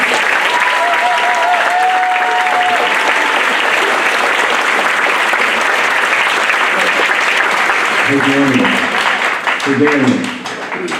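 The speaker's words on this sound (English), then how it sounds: "I just wanted to kind of celebrate them right now also with a big round of applause for their conducting" A band concert audience gives sustained, loud applause for the student conductors. The clapping fills the whole stretch, and brief voices come through near the end.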